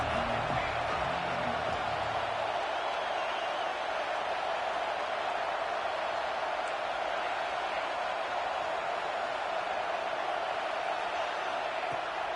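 Stadium crowd noise from the College Football 26 video game at a Mississippi State at Oklahoma conference matchup, a steady dense roar of a large crowd with faint whoops, continuous and broad throughout.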